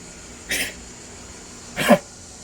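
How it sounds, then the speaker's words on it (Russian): A small dog with a cough gives two short, harsh coughs about a second apart, close and fairly loud against a quiet room. "Начал двигаться, опять начал кашлять."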